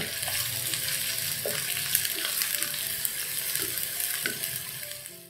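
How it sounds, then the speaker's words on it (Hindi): Chopped onions frying in oil with cloves and black cardamom for a dum chicken: a dense, bright, continuous sizzle with occasional soft stirring knocks, close and steady throughout. "अब इसमें हम ये कटी हुई प्याज डाल देंगे"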